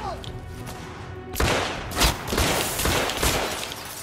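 Pistol gunfire in the video game The Order: 1886, several sharp shots and a burst after a quiet opening, loud and close under faint game ambience.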